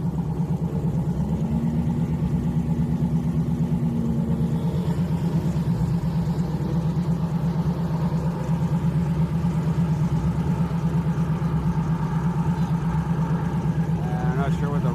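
Audi and Volkswagen cars drag racing at a Friday street night at Houston Raceway Park, their engines a steady, loud drone throughout with a brief rising whine early on, while a commentator talks over it.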